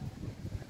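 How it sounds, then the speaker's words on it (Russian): Low, buffeting rumble of strong wind battering a microphone in the city centre of Chisinau, Moldova, during the day, steady and muffled for a brief moment. "Ой, такой ветер сильный, будет, наверное, задувать"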